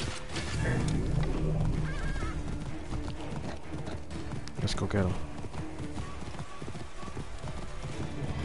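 Horses clip-clop steadily in a video game, hooves thudding close and loud over game sounds and ambience, with a whinny-like cry partway through and a player talking over much of it.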